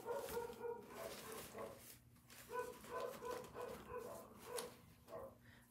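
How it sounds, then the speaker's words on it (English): Dogs barking and whimpering at a distance outdoors amid storm aftermath with trees down, a faint, irregular run of yaps and whines over a steady background hum, no talk. "Sorry, dogs are just gonna go crazy today."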